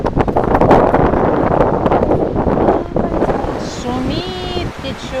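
Strong wind gusts buffet the microphone outdoors near trees and a river, a loud roaring rumble throughout, with a voice speaking faintly near the end.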